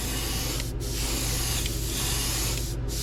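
Satin gold spray paint hisses onto a DRT Klash9 fishing lure being painted in a carp pattern, a loud, continuous close spray with two short breaks.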